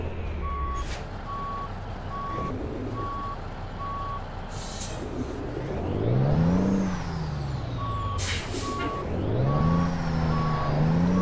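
In American Truck Simulator, a truck reverses a trailer while a loud, evenly spaced reversing beep repeats. The engine rumble rises and falls twice, and sharp air-brake hisses burst out between the runs of beeps.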